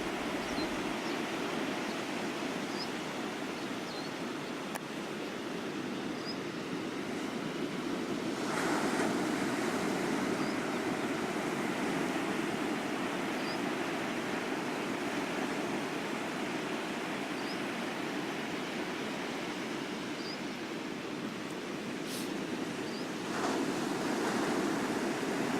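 Sea waves wash over small rocks on a shallow beach, a constant loud roar of surf with a few stronger surges, mixed with some wind noise across the microphone.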